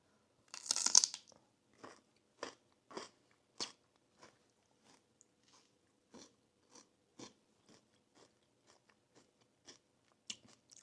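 Crisp bites and chewing of raw cut celery during a kitchen taste test, one loud crunch followed by a steady series of softer, evenly spaced crunches, close and with no talk.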